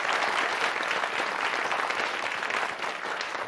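Sustained applause from a television game show studio audience, steady dense clapping filling the whole stretch at an even level with no talk over it.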